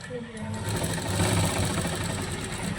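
A sewing machine runs steadily, stitching fabric for a baby frock, with a continuous close whir and rapid needle rhythm throughout while someone speaks over it.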